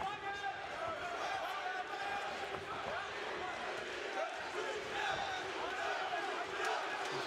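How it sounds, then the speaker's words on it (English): A large crowd cheers steadily through a kickboxing fight at an Enfusion event, a dense roar of many voices with a commentator talking over it. "You hear the crowd cheering on their favorite Piet van den Berg."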